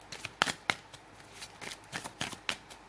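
Tarot cards are shuffled and dealt out one by one, giving a string of crisp, close card snaps and riffling flicks with short gaps between them. There is no talking.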